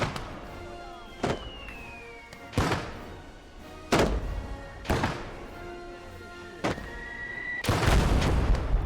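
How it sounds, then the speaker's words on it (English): Mortar fire and explosions in a video game come as a series of about seven sharp booming impacts spaced a second or so apart, some with descending whistles between them, loud and close over a low rumbling background. "One of these mortars gotta hit him."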